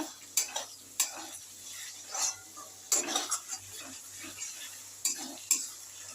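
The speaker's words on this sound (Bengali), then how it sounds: "আদা রসুন আর পেঁয়াজটা আমি এখন ভেজে নেব" Ginger-garlic paste and onion fry in a pan on a home stove. A quiet sizzle runs underneath as a spoon scrapes and clinks against the pan in irregular strokes.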